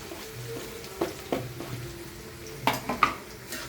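Curry leaves, onion and green chilli frying in a pan while pohe is cooked, a soft steady sizzle with a few sharp clinks and scrapes of a spoon against the pan, close and fairly quiet, no talking.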